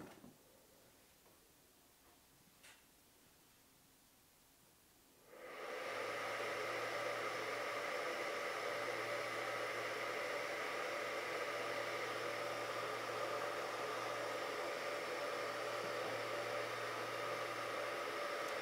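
Ubiquiti USW-Pro-XG-8-PoE network switch powering up: near silence, then around five seconds in the cooling fan spins up abruptly to a loud, steady broadband whir with a low hum, running alone.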